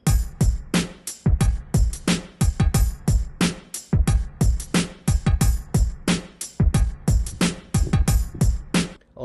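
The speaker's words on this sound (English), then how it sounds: "Then I just added a classical boom bap beat," A processed boom bap drum beat with kick, snare, hi-hat and a few percussion elements repeats in a steady groove, the punchy low kicks and sharp snare hits loud and upfront.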